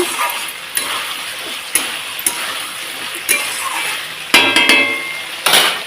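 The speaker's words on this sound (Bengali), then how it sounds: "এই যে ভেজে রাখা মিষ্টি কুমড়ার টুকরোগুলো আমি এর মধ্যে দিয়ে দিচ্ছি এটা দিয়ে একটু ভালোভাবে সেম ওই পদ্ধতিতেই কষিয়ে নেব" Fried pumpkin pieces are stirred and sautéed in a pan over a continuous sizzle, with sharp utensil scrapes and clinks against the pan every second or so and a louder clatter near the end, with no talking.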